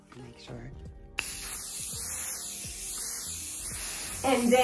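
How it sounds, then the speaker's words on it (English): An aerosol can of Scotchgard fabric protector sprays onto furniture in a continuous hissing stream for a few seconds, close by, with faint talk before and a rattle at the end. "Spray your furniture with Scotch Guard."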